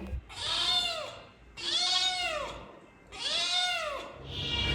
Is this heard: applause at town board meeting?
no